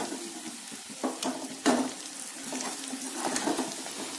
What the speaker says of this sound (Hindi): और अब हम इसमें कटा हुआ टमाटर डालेंगे।